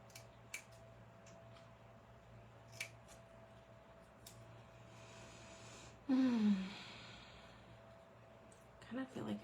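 Scissors snipping through material, probably for model antennas, with a few sharp cuts then a louder burst of rustling and crunching near the end, all fairly close and low in level.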